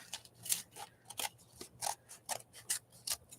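Scissors make a quick run of close, crisp snips, about ten sharp cuts in a steady rhythm against a quiet background.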